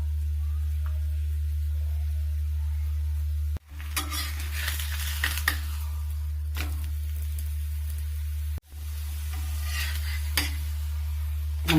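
Chapati with meal maker cooking on a hot oiled griddle, a steady loud low hum under soft sizzling, with a few clinks and scrapes of a utensil as the flatbread is pressed and moved.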